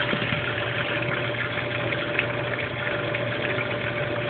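A Brastemp Baby Mondial washing machine runs a load of whites as water pours in, giving a steady, unbroken hum with a rushing, pump-like drone throughout.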